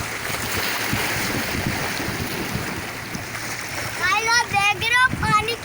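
Turbulent water churns where two currents collide at a hazardous double point, a steady rushing wash with wind noise on the microphone, and a voice cuts in over the water toward the end.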